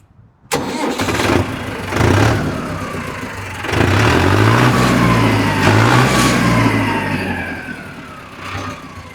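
A Punjabi Arjun 605 tractor with about 1600 hours and no turbo cranks and fires, then runs with a loud, close diesel chug that swells as the engine is revved twice before settling.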